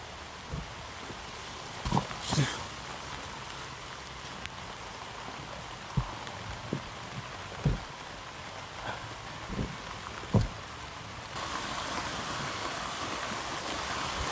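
Steady rain falls throughout, with scattered louder drops and taps breaking through the hiss, and the downpour grows a bit denser near the end.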